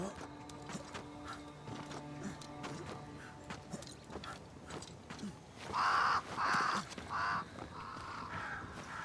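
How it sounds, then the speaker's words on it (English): Crows cawing in the video game Banishers: Ghosts of New Eden, three loud harsh caws in a row near the end, with game sounds and intermittent talking earlier. "These freaking crows are immortal."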